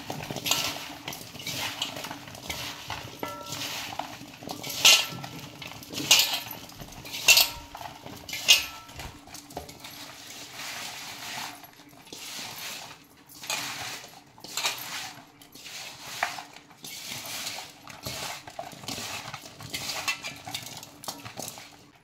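Chopped brinjal being tossed with fine salt for pickle, heard as repeated clinks and scrapes of a spoon against a metal dish, with a few sharper taps early on, close and fairly quiet.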